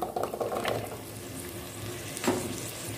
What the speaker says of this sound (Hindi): और इसे मैं 5 मिनट तक फ्राई करूँगी।